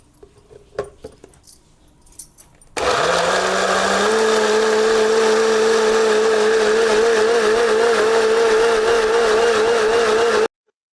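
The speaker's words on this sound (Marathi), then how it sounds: "हे आपण आता मिक्सरला लावून ग्राइंड करून घेऊया." A mixer grinder blends a dragon fruit milkshake with milk, cardamom powder and condensed milk, starting abruptly after a few quiet seconds and then whirring loudly and steadily with a high motor whine until it cuts off.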